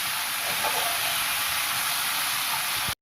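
Hot baghar tempering poured into a pot of dhaba-style dal chana makes a loud, continuous hissing sizzle up close, holding steady for about three seconds before cutting off abruptly.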